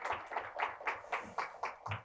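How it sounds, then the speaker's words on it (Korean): At a leadership seminar, an audience claps in a distinct, regular rhythm, about eight evenly spaced beats at moderate volume, like synchronized clapping rather than loose applause. "우리 큰 박수 한번 주십시오"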